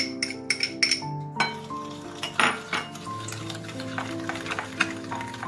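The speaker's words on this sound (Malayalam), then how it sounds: "നമ്മൾ മുട്ടയും ബട്ടറും പഞ്ചസാരയും കൂടെ മിക്സ് ചെയ്തു" Egg, melted butter and sugar are stirred together in a bowl for muffins, with scraping strokes and a few sharper clinks against the bowl over a low, steady background hum.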